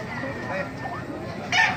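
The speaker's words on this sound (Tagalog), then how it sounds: "Ganda ng mga manok dito" Chickens cluck close by against background noise at a market in Baliuag, Philippines, ending in a brief louder squawk that might be the start of a rooster's crow.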